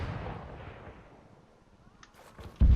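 A rocket launcher fires in Arma 3, a heavy blast rolling off into a long fading rumble, then a sharp loud impact bang lands at the very end.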